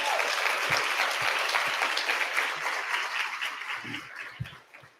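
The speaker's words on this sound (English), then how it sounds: "Please join me in one more round of applause for these amazing students and staff" An elementary school audience applauds students and staff at a 2023 State of the Schools event, a dense, steady round of clapping that slowly thins and fades near the end.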